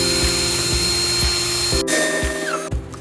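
A power drill pre-drills a pilot hole through a wooden board into end grain while building a foldable table, whining steadily up close with a few knocks before it stops abruptly.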